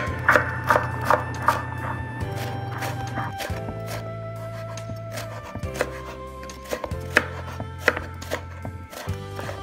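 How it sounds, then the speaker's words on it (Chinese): A knife chops eggplant into thin strips on a cutting board, giving a fast run of crisp, regular taps at close range, some louder than others, over a low background hum. "茄子呢，我们先切片，然后我们切成丝，切成细丝"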